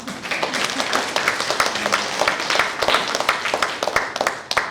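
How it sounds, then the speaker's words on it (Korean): Audience applause at a book-launch talk concert for a six-author joint anthology, dense steady clapping from a seated crowd lasting throughout, fairly loud and continuous with no voices on top. "다시 한번 큰 박수"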